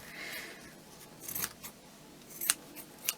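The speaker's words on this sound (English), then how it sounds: "I know you're cutting through machine stitches, and they may well come undone a little bit" Scissors snip through machine-stitched fabric during a craft session, giving a few short, crisp cuts spaced apart, quiet and close with no talking.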